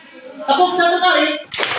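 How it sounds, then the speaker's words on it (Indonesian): After a voice in a seventh-grade classroom at an Indonesian junior high school, the class gives one sharp, loud clap together, ending in a brief burst of noise. "Tepuk satu kali."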